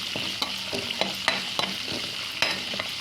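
Onions with green chillies fry in a pan for onion curry, giving a steady sizzle with regular light scrapes of a spoon stirring, close and without talk.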